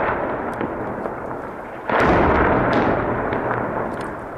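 Artillery shells falling on the Rushdiya district of Deir ez-Zor: loud, continuous rumbling and crackling, swelling into a heavier roar midway, with scattered sharp cracks throughout.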